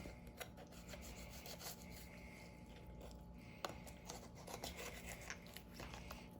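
Shears crunch through turkey cartilage and bone while a whole bird is spatchcocked, giving quiet repeated snips and rasping cracks in an irregular rhythm, close and faint.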